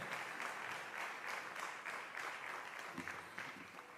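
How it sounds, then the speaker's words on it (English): An audience applauds steadily at a talk on decolonisation held under a baobab tree, the clapping dense but fairly faint and distant, with no voices over it. "Give them a round of applause again"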